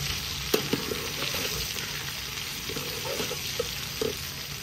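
Okra (bhindi) frying in a pan on a village cooking fire, giving a steady close sizzle with scattered spatula clinks and stirring scrapes, no talk.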